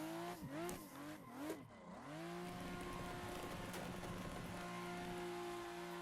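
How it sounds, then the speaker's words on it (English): A car drifting with a clutch kick: sharp engine revs rise and fall, then a sustained high rev with tire squeal, loud and close, with no voices. "Clutch kick."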